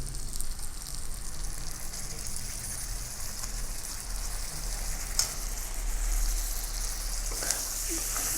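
Garlic, ginger and onion paste frying in a hot pan, a dense continuous sizzle with crackling spits, close and steady from start to end, with no voices over it.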